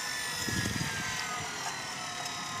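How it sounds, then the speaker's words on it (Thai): A solar-powered water pump hums steadily with a buzzing whine, its motor running continuously at moderate level, no voices. "อันนี้สูบตรงครับ ตาปั่มกะเสียงดังจักหน่อย"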